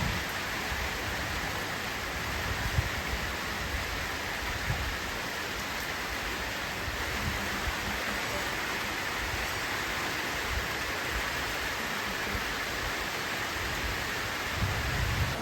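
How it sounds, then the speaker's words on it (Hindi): Steady monsoon-style rain pours down, a dense constant hiss with no letup, fairly loud and close, with no voices. "फाइनली बारिश आ गया।"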